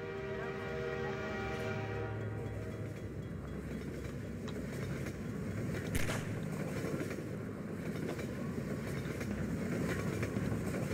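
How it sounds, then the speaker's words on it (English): A train pulling in within the video game Half-Life 2: a low mechanical rumble and rolling clatter with a rising tone early on, plus a sharp metallic hit midway, heard without any talk. "Here comes the train."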